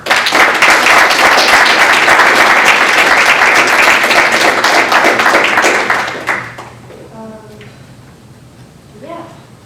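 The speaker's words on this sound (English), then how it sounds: "So give yourselves a round of applause." A room of people at a student senate meeting gives a loud, dense round of applause lasting about six seconds, then it fades abruptly into quiet murmuring talk.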